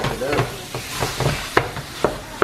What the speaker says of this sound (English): I'm going to add our ground sirloin to it.